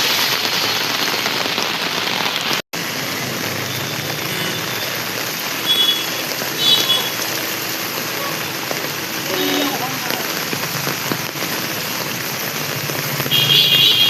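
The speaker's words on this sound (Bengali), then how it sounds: "মারাত্মক বৃষ্টি।" Heavy evening rain pours down during a rainy night journey home, flooding the surroundings with water; a dense, steady roar of rainfall on surfaces fills the whole stretch, with a brief dropout and faint vehicle noise in the background.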